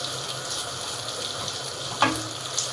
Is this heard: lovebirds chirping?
no